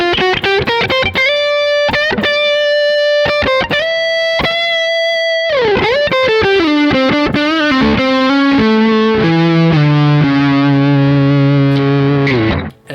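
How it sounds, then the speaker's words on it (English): A distorted electric guitar with a five-way pickup switch, one volume and two tone knobs plays fast sustained lead notes and bends, loud and saturated, then settles into held ringing chords before cutting off. "And here's how it sounds with a distorted sound."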